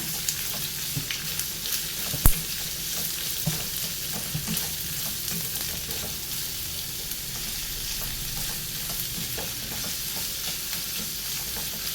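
Ingredients for an Afghani egg curry sauté in a pan with a steady sizzle and frying crackle, punctuated by occasional stirring scrapes and one sharp knock near the start.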